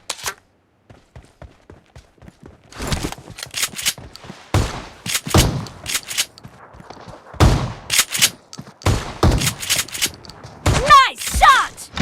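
Gunfire rattles through a shooting video game in uneven bursts, loud close cracks and rapid volleys with short pauses between them, and brief voice callouts mixed in.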